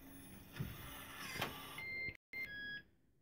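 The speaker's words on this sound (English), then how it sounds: "The door's now locked." Z-Wave smart lock motor locking a back door: a steady close whir lasting a few seconds, briefly cut off, then resuming with a thin electronic tone before stopping, quiet and without talk.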